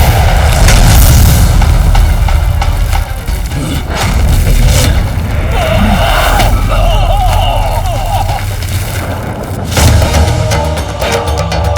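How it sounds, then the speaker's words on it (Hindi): A booming explosion effect from a Hindi TV serial rumbles loudly and continuously under dramatic music, with heavy low-end blasts swelling and fading over several seconds. "कैसा विस्फोट था?"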